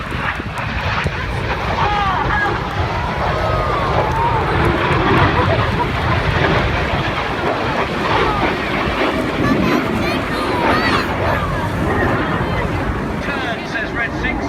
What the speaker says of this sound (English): The pilots put full power on the jets.